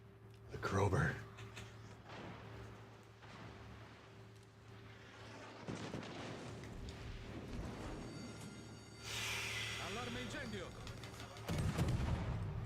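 Warship guns firing in World of Warships Legends, heavy booming salvos near the start and again at the end, with a steady engine hum and rumble between them as a person talks throughout.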